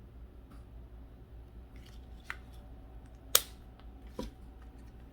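Pruning shears snip through a Hoya Clemenciorum stem to split a cutting in two, giving one sharp, close click-snip amid faint quiet room noise, with a couple of softer clicks before and after.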